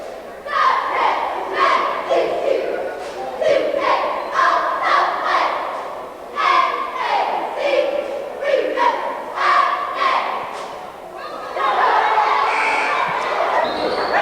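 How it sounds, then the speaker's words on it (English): During a timeout at a Ticonderoga boys' high school basketball game, a group chants a rhythmic cheer in loud, clipped bursts with short pauses, ending in a swell of crowd noise. "We have a cheer here."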